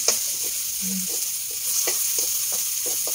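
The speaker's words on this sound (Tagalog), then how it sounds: "Gigisa lang natin, hindi nyo makita ito." Onions sizzle steadily in a pan while being sautéed for pork tocino, with a spatula stirring and scraping in intermittent soft knocks over the continuous hiss of frying.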